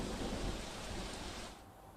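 Heavy monsoon rain pouring during a red-alert downpour in Bharuch, Gujarat, a dense, steady broadband hiss of rainfall with low rumbling underneath, close and continuous, easing slightly near the end; no voices.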